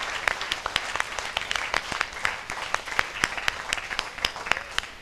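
A church congregation at a Tamil chapel's chariot feast Mass claps warmly together, a dense spread of many hands beating steadily and fairly near, with no voices over it.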